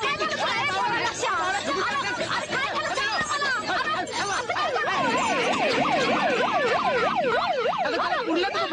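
A wailing municipal vehicle siren rises and falls repeatedly as it arrives, loud and close, over a noisy crowd of excited chattering voices.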